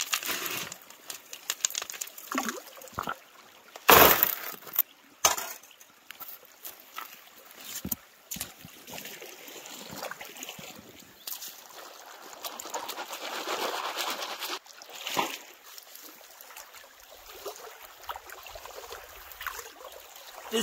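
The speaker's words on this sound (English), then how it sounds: "Let's do some panning with the Betea pan today." Water swishes and sloshes irregularly in a traditional wooden batea pan during outdoor gold panning, with occasional splashes and bird calls in the background.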